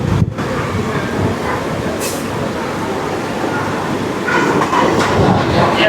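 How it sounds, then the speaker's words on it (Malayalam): A Mumbai local train rolls past close by, a steady loud rumble of wheels and carriages running for the whole stretch, swelling slightly near the end. "ഇതിങ്ങനെ വന്നുകൊണ്ടേയിരിക്കും. ഓരോ 5 മിനിറ്റ് കൂടുമ്പോഴും ട്രെയിനുണ്ട്."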